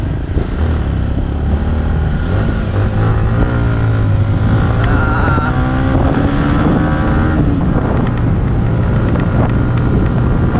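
A motorcycle engine runs steadily while riding on a road in Nueva Vizcaya, its low drone rising and falling with shifts in revs, with wind noise buffeting the microphone throughout.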